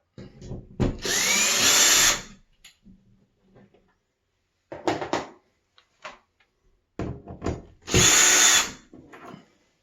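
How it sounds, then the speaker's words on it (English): A power drill backs screws out of a towel bar mounting in three close, loud whirring bursts, with quieter clicks and handling noises in between. "Then go ahead and take the screws back out."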